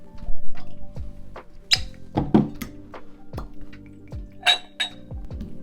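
Cask strength Texas whiskey and barrel proof bourbon are handled at close range: glass clinks and clunks as bottles and glasses are set down, with soft liquid sounds in between, no talking.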